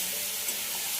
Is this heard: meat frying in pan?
yes